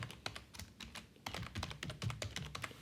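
Typing on a computer keyboard in a quiet room, a quick irregular run of soft close key clicks with brief pauses between bursts, faint overall and with no voices.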